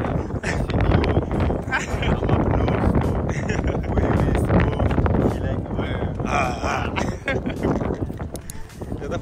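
Strong gusting wind buffets a microphone outdoors in Russia, loud rumbling bursts that swell and drop throughout, with scattered clatter mixed in and no clear talk.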